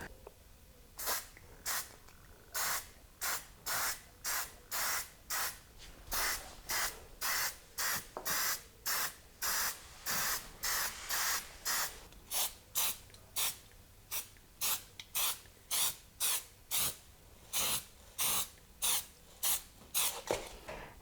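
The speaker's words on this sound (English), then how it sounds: "So now let's spray some rust converter on there." Rust converter is sprayed onto the welded body of a Volvo 850R under restoration. Many short, sharp aerosol hisses come in quick bursts with brief gaps, close and alone.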